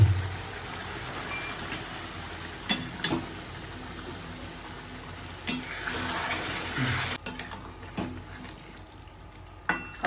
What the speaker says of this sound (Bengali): ব্যাস, এটা নাড়িয়ে দাও বাপি।